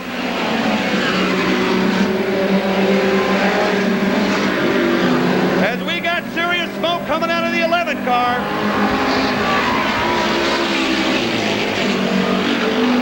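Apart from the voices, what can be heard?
midget race cars racing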